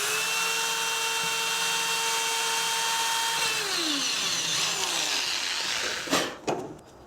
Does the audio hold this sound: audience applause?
no